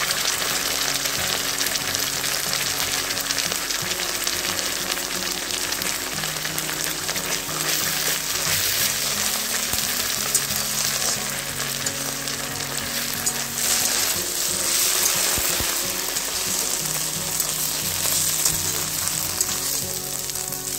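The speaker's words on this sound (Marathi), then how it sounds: "आता आपण त्यामध्ये 1 चमचा आलं लसूण पेस्ट टाकून घेऊया" Ginger garlic paste sizzles with onions frying in a pan for pav bhaji, a steady dense crackle with occasional stirring, close and continuous with no talking.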